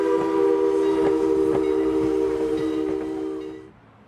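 Steam locomotive Engine 89 on the Strasburg Railroad pushes its train into the station, its chime steam whistle holding a loud, steady multi-tone blast for several seconds before cutting off, with faint mechanical clanks underneath.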